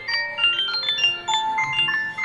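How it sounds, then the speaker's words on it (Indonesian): A phone rings with a bright, repeating electronic melody of short beeping tones, fairly loud and close, with no talking over it. "Oh, ada telepon, siap."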